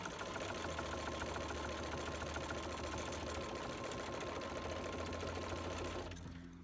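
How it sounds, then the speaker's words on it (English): A sewing machine runs steadily, stitching quilt blocks together in one long, even, close whirring run that cuts off near the end, with no talking. "And then I'm just going to keep sewing."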